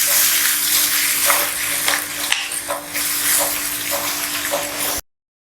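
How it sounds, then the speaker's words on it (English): Green chili paste frying in oil with a loud, dense hiss and sizzle close by, with a few stirring knocks, ending abruptly. "So let this fry, and we can put in the green chili paste. Let it all fry in the oil."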